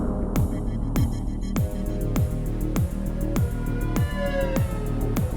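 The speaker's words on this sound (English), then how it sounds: "I also try to add like a siren sound like this" A synthesized siren from a MIDI setup repeats a falling sweep about twice per second, each pulse dropping sharply in pitch over a steady low hum. The pulses are loud and evenly spaced, with no voices.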